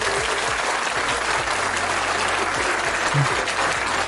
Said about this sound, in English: Let's give Melissa a round of applause